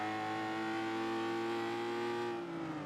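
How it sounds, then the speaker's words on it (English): A race car at Mugello lifting off and coasting to save fuel, a steady tonal engine drone that holds level and then eases slightly near the end, heard alone and fairly close. "If he starts lifting and coasting, which you can kind of hear him doing, he might be able to make this fuel last"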